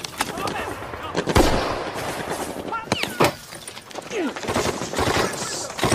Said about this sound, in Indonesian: kaki Letnan Winter sempat terkena tembakan entah berasal dari mana